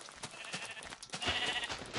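Sheep bleating in Minecraft, a few short, wavering bleats heard close and clear over faint background game noise, with no one speaking.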